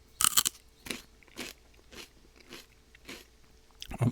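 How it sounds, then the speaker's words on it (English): Celery stalks crunched and chewed close to the mic, a sharp loud first bite followed by a steady series of crisp chewing crunches at about half-second intervals. "I'll just have one more celery here for you"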